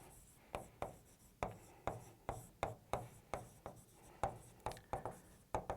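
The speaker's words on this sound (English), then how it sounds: "Oh, I'm erasing, not writing, that's not good." An eraser scrubs across a classroom whiteboard in quick, rhythmic back-and-forth strokes, a dozen or so short swishes, close by with no talk.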